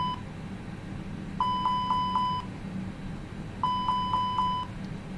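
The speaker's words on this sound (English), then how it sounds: "I'll go through our alarms" Airbus A320 cockpit alarm test in the FSLabs flight simulator: two bursts of rapid, evenly spaced electronic beeps, four tones each, separated by a pause, heard clearly over a steady low cockpit hum.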